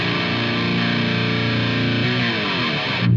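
A distorted electric guitar plays the closing phrase of a song, a dense sustained wash of overdriven tone that shifts partway through, then swells into a final accent; loud and close, no voices.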